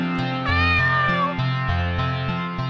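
A cat in the video game Corruption of Laetitia lets out a long, drawn-out meow that rises and then falls, loud and close, with no speech over it.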